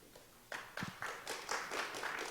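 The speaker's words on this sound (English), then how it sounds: "Round of applause" A few scattered claps ring out at a university guest lecture as the university president stands to take a bow, sparse and fairly faint, with no voices over them.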